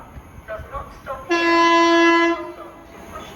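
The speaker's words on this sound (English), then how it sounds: "The next train at platform 1 does not stop" A non-stopping train passes through a platform at Sandwell & Dudley station, sounding a loud sustained two-tone horn for about a second after brief faint horn notes, over background rumble.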